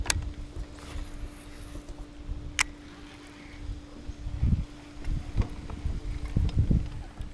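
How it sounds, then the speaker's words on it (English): Wind gusts blowing across Lake Norman on a fishing outing, a steady rushing murmur with a low hum and rumbling buffets against the microphone, with no talking. "The wind's blowing in here perfectly."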